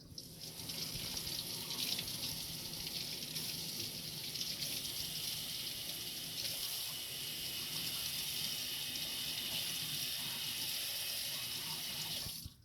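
Steady running water pours from a sink faucet during handwashing, with nails being scrubbed under the stream using a nail pick; a continuous close hiss and splash with no talking.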